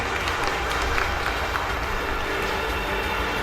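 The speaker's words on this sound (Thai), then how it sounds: "ขอเสียงปรบมือให้กับท่านด้วยค่ะ" Continuous applause from the crowd at the Bosch Rexroth Thailand grand opening ceremony, an even, unbroken patter of many hands clapping throughout.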